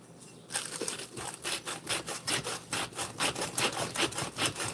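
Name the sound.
salt grinder grinding salt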